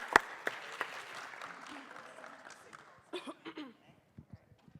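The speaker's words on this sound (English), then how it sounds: "them a big round of applause" Audience applause at a college climate summit panel, loud at first and then thinning into scattered claps, with a voice speaking over it and a few final claps near the end.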